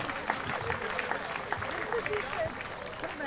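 A village crowd applauds in a steady, moderately distant patter of clapping with voices murmuring underneath.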